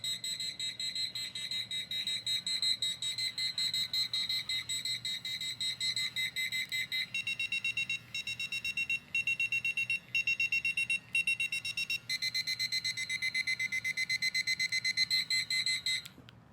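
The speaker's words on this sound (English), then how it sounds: "here's a quick demo of how each of the alarm settings sound" Bedwetting alarm cycling through its alarm settings: loud, continuous high-pitched electronic beeping and warbling tones, with the pattern changing between settings and brief gaps between them.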